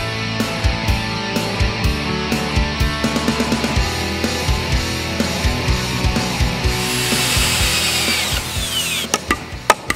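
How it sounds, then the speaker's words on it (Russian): Hammer blows nailing a wooden batten to a rafter beam during roof repair on a garage, a steady series of sharp knocks followed by a louder tool whine and a few final strikes. "Будем крепить брусок гвоздями к стропильной балке."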